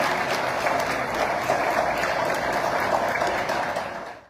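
Sustained audience applause fills a hall at a national education conference in Haiti, welcoming the Minister of National Education; dense, steady clapping that holds for several seconds before tapering off at the end.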